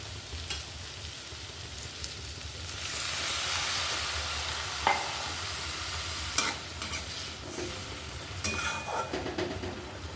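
Potatoes sauté and sizzle in a pan, with a steady frying hiss and occasional stirring scrapes and clinks. No one speaks.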